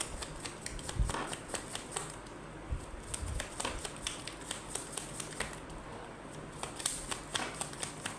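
Tarot cards being shuffled by hand, a quiet series of soft riffling flicks and taps in an irregular rhythm, close and without talk.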